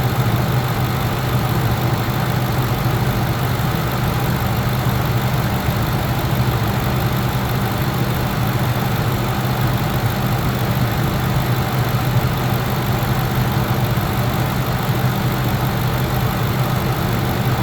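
A Lincoln Navigator engine idles steadily and loudly during an A/C refrigerant recharge, a constant low rumble with no change in pace for the whole stretch.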